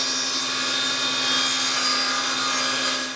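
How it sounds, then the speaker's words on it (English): A power saw cuts a wooden strip down to three-quarter-inch width, a loud, steady, high whine with a constant hum that holds unbroken from start to finish. "I need to cut this strip so that it's 3/4 of an inch wide"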